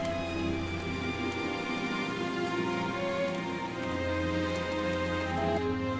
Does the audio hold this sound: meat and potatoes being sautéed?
no